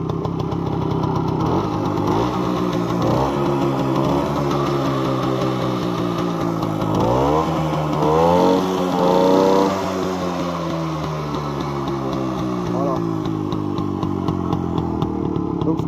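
A 1957 Gitane S98 motorcycle engine idles close by, then is revved hard several times in rising and falling surges before settling back to a lumpy idle, with no talking over it.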